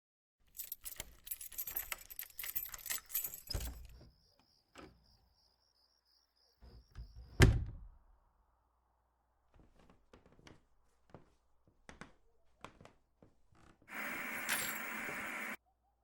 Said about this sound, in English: how obnoxiously loud you were trying to fiddle with your keys